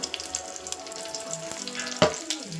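Turmeric and asafoetida fry in hot oil, a soft close sizzle with a few light clicks and one sharp utensil knock partway through.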